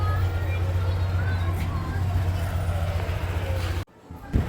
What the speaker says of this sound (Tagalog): Kasi kailangan pa init yung makina.